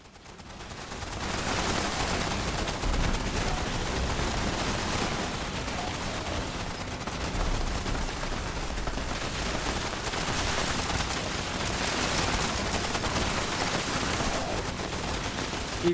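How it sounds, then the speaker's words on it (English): Continuous gunfire from Fallout 76 combat streams on without pause, a dense, loud rattle of rapid shots filling the whole stretch. "Keep shooting both sides. I don't even let go of the trigger,"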